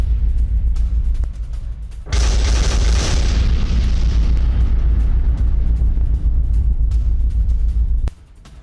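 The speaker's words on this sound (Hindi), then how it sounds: "लेबनान में इजराइल की भीषण एयर स्ट्राइक" Heavy explosions from an Israeli air strike on Lebanon, a loud sustained roaring blast that lasts about six seconds after a lower rumble, then cuts off abruptly.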